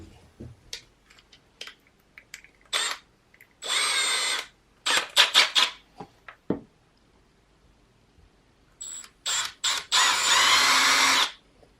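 A power drill working scrap steel whirs in several short bursts and a few longer runs, close and loud, separated by quiet gaps and small clicks.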